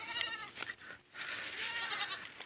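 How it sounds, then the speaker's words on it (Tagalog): Hungry farm goats bleating close by at feeding time, overlapping drawn-out calls that break briefly and then resume as a continuous chorus. "Yan naman yung mga kambing natin."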